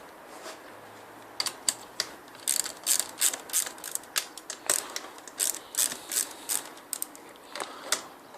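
A ratchet clicks in quick bursts undoing the back plate bolts on a Range Rover L air compressor, crisp close ticks in irregular runs with pauses, no talking.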